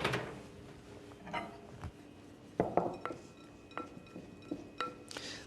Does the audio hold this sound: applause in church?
no